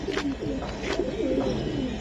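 Giribaj pigeons coo softly and repeatedly nearby, a few low throaty calls overlapping amid faint background noise.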